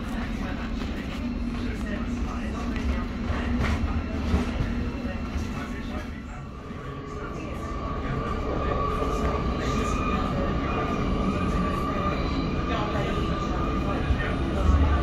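A train pulling into London St Pancras International rumbles and clatters steadily with a faint wheel whine, heard from inside the carriage beneath an onboard arrival announcement.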